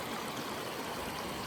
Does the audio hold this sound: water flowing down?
yes